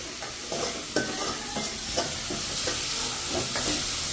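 Ginger and garlic sautéed in a pan in a Jaffna home kitchen, giving a low, even sizzle with a few light stirring taps every half second or so.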